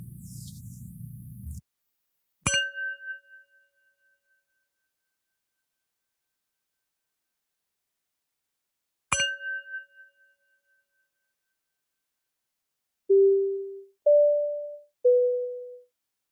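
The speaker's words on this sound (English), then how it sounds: "The show will begin after the following chimes." A bright chime rings twice, each tone ringing out and fading, followed after a pause by three short rising-then-falling electronic tones.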